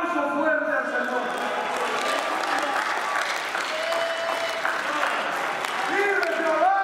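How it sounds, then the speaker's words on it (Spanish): A church congregation applauds loudly with dense clapping while voices cheer and shout over it, rising and falling in an excited crowd din. "Den un aplauso fuerte al Señor."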